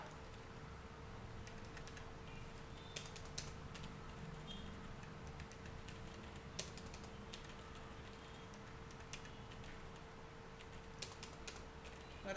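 Typing on a computer keyboard, sparse irregular key clicks and occasional louder taps over a quiet room with a steady electrical hum, and no talking.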